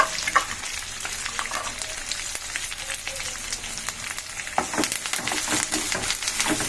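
Chillies, curry leaves and chopped onions sizzle steadily in hot oil for a fenugreek-leaf and tomato curry, a dense crackling hiss broken by stirring scrapes and a louder burst of spattering midway, with no voices.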